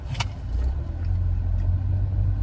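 A car pulls away with a steady low engine rumble close by, after a brief sharp sound at the start.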